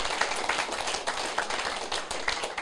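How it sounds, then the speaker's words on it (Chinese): A seated audience at a Taiwanese self-government lecture claps for Mr. Yao, a dense, steady patter of many hands that carries at an even level all the way through, with no voices on top. "爱给伊拍手，爱给伊鼓掌啦"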